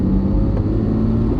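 A Lamborghini with a manual transmission holds a steady, close engine drone, a low even hum with no sharp revving, running alone.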